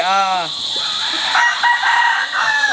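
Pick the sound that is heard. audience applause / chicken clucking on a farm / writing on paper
chicken clucking on a farm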